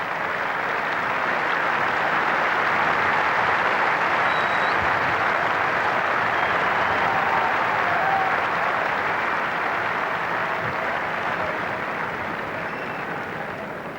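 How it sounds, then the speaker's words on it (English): A cricket crowd at Lord's during a Test match between England and India applauds steadily, a broad dense wash of clapping that holds at a constant level and then fades slightly at the end. "Nice cheer in the crowd for Kapil Dev's half-century."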